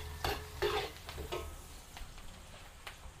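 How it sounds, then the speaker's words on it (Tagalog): Onion and garlic sautéing in a pan, with a soft sizzle broken by several distinct scraping stirs in the first half, then a quieter steady fry; no voices. "Tutuwin lang po natin sandali yung ating panggisa,"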